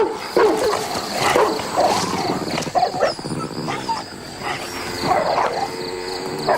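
A wild street pup in Bali scavenging for scraps makes close, uneven whimpers, yips and rough growling cries, set against a low outdoor background.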